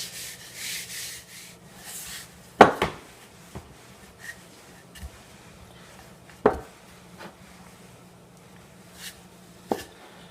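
Hardtack ship's biscuit dough being rolled out on a wooden surface, giving soft scraping rubs with a few sharp knocks as the rolling pin lands, close and fairly quiet with no talking.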